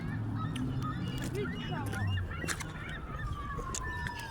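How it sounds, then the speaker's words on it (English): Geese honk repeatedly outdoors in a mix of near and farther calls, with people talking over them. "Look at all them birds."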